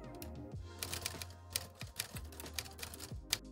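Rapid, uneven typewriter keystrokes clatter up close, with sharp bright clicks and a few heavier thumps like carriage or key returns.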